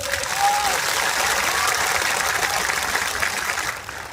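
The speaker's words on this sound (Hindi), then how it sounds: "थोड़ा जोर से ताली मारो तो तिपरा से लोग।" A large crowd at a public gathering of Tipra people claps loudly and steadily, a dense, continuous wash of applause that holds for about four seconds before easing slightly at the end.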